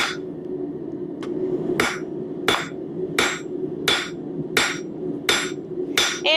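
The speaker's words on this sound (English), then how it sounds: "I'm continuing to shelf out this leaf by hanging it off of the anvil and forcing the material down the side of the anvil." A blacksmith hammers a metal leaf hanging off the edge of an anvil, forcing the material down its side, with about eight evenly spaced, ringing strikes over a low steady hum, close and loud.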